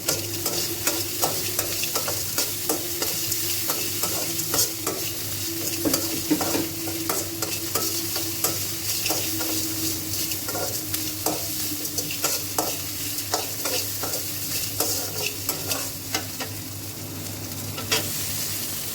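Ginger and green chilli frying in a pan for coconut chutney hiss steadily, while frequent spatula scrapes and taps give a busy stirring rhythm throughout, with no voices.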